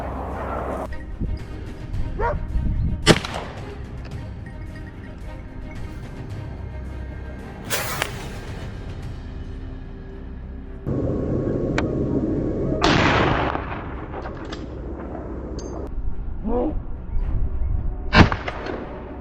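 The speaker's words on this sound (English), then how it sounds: "Soon after, gunshots rang out, signaling another successful attack." Gunshots fired during a wild boar hunt on farmland ring out as several sharp, loud cracks spaced across the clip, separated by rustling outdoor noise, with a dog barking at moments.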